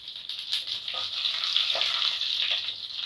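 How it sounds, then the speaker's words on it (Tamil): Green chillies hitting onions already fried golden in hot oil for a chicken kurma give a steady, close hiss and sizzle, with a few brief stirring clatters through the frying. "நம்ம பச்சை மிளகாய் சேர்த்துப்போம்."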